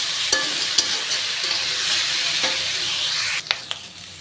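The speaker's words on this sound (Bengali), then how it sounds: "ফুলকপি দিয়ে দিয়েছি, এখন আমি নিয়ে নেব। ভালো করে কষিয়ে তারপরে জল দিয়ে দেবো।" Fried cauliflower pieces are stir-fried in a pan over a steady, close sizzle, with occasional sharp knocks and scrapes from the utensil and a brief cluster of clatters near the end.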